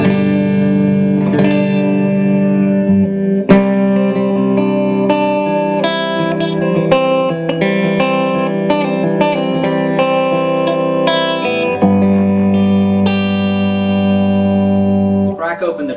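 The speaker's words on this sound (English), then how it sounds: "And I love the EQ unit on this guitar. It's a lot of fun. Just a great versatility of clean tones." An electric guitar plays clean, ringing chords and single notes with its onboard bass, mid and treble EQ shaping the tone, sustained and close with a slight effects sheen.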